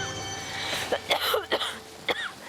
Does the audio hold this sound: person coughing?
yes